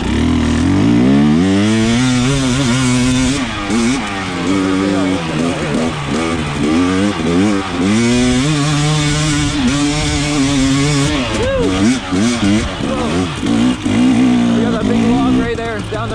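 A motorcycle engine revs in second gear on a hill climb, loud and close, its pitch rising and falling continuously through repeated throttle surges for the whole stretch.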